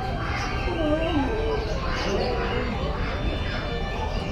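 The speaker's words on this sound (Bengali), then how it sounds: "দেখো পাখিগুলো উড়ে উড়ে যাচ্ছে" Birds chirp and call at Alipur Zoo, scattered bird sounds mixed into a constant wash of crowd noise and distant voices.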